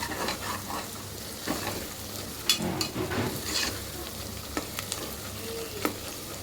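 Onion frying with ginger garlic paste in a pan gives a steady close sizzle, with scattered clicks and scrapes of stirring throughout and no talk.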